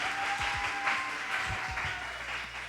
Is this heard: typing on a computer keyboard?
no